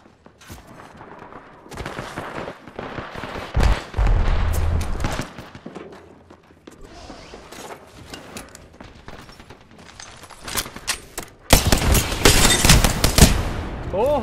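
Video game gunfire in rapid bursts and single shots, loud and close, with heavier booms, under excited talk between players.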